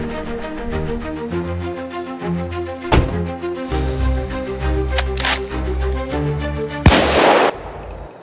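Sharp video game gunshots crack several times in a horror game over a steady electronic music bed, with a louder burst of blasts near the end.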